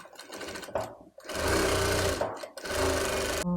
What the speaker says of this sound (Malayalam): ഇവിടെ ഇതുപോലെ ഒരു പതിച്ച് സ്റ്റിച്ച് കൊടുക്കുന്നുണ്ട് കേട്ടോ